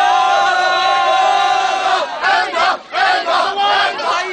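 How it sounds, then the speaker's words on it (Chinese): Hong Kong football fans cheer and chant loudly outside the stadium after their East Asian Games final win over Japan, with a sustained roar giving way to rhythmic bursts of massed shouting. "大批球迷情绪高涨，在大球场外欢呼庆祝"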